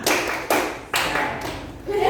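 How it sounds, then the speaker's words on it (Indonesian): A group doing the rhythmic 'tepuk semangat' spirit clap in a classroom, sharp clap bursts landing in a quick pattern with a room-filling ring, loud and close. "Oke, coba tepuk semangat."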